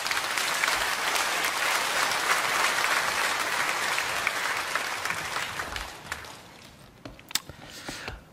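A church congregation at Bundang Woori Church's Sunday worship applauds to welcome a guest pastor, a dense, loud roar of clapping that holds for several seconds before thinning into a few scattered claps.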